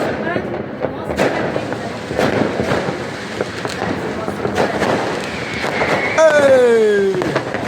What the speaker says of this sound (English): Fireworks! Happy New Year, guys!